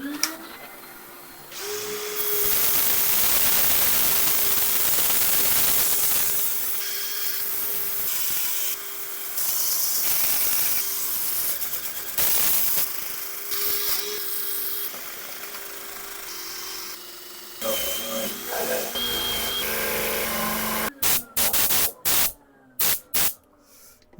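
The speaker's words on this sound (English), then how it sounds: "I'm going to set up for sanding" Sanding a turned piece of London plane wood on a lathe, a loud continuous whooshing hiss with motor whine that rises and dips as the paper is pressed and lifted, then short bursts near the end.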